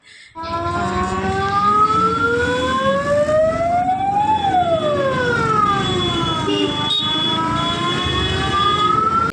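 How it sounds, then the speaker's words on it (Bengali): An ambulance siren wails loudly and close on a street, its rising and falling tone sweeping continuously over traffic rumble. "কারো অসুস্থ ছিল তাই অ্যাম্বুলেন্স"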